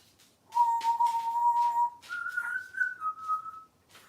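A cockatoo whistles a clear, pure two-part tune, a long steady note followed by a slightly higher wavering phrase, close and fairly loud against a quiet room.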